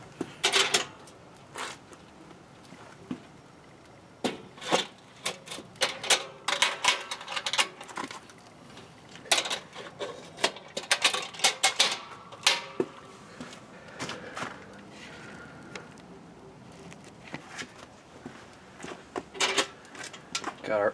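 Metal parts of a Fornetto Basso smoker clank and rattle as the sections, lid and thermometer probe are fitted together, giving irregular sharp knocks and scrapes close by.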